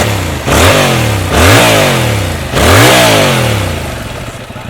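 A Yamaha R7 motorcycle with its stock, restricted exhaust revs hard three times in a row, each rev climbing then dropping back toward idle, loud and close with no talking.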